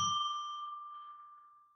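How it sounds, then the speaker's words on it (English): A single bell strike rings out clear and bright, its pure tone sustaining and slowly fading across the whole moment, with no other sound alongside. "I am going to ring a bell 3 times to declare that we are entering sacred space"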